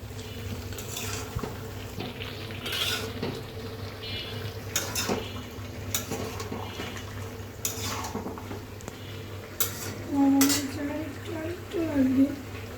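A spoon scrapes and clinks around a pan of stir-fried vegetables while thickener goes in bit by bit. Soft, intermittent knocks sound over a low kitchen hum, with brief voice-like sounds near the end.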